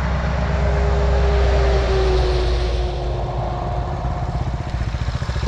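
A Chinese supermoto motorcycle engine drones loudly and steadily at a constant pitch, then settles into a rougher, pulsing idle-like throb toward the end, with wind noise and no voices.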